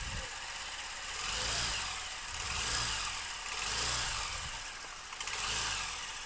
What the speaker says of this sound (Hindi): देखिए इंजन हमने बाहर में स्टार्ट कर दिया है